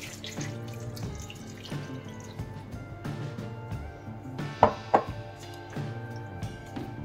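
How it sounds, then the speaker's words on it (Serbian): Water splashes and trickles into a pan holding pork neck and potatoes, a continuous pour broken by a couple of sharp clinks of the pan or utensil midway. "Dodat ćemo vode."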